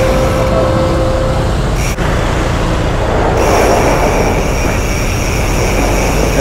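MRT train at Santolan Station in Manila, a loud steady rumble of rolling cars with faint squealing wheels, heard close and continuous throughout with no talk.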